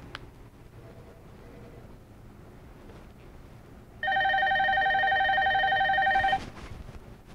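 A soft phone on a tablet in an office rings for an incoming call, a clear electronic multi-tone ring lasting about two seconds after a stretch of quiet room noise.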